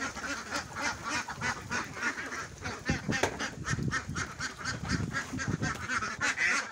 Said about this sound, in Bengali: তো দেখেন খাবার এখানে মাখানো খাবার কিন্তু খাচ্ছে হাঁসে